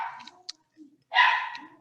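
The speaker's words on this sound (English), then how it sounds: "that's our new puppy who keeps us up all day" A new puppy barks indoors during a community workshop meeting: a few short yips early on, then one louder, drawn-out bark near the end, with stretches of silence between.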